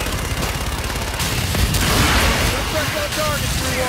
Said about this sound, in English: Inbound for gun run. Guns, guns, guns.